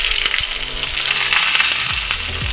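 Onion fries in hot oil with mustard seeds for a bean sprout stir-fry, a loud, dense sizzle that continues steadily throughout.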